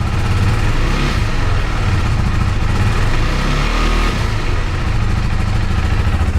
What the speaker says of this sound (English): We just want to let it idle, slowly bring it up.